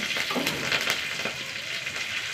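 Crushed shallots, garlic, curry leaves, fenugreek and dried chillies frying in hot oil, a dense close crackling sizzle with faint stirring, steady throughout; no voices.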